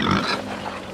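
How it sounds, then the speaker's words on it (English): Pigs on a farm eating grain at a feed bowl, giving a continuous close mix of grunts, snuffling and chewing noises. "I've just got to give it to the little pigs because the big pigs tend to kind of push them out of the feed bowl."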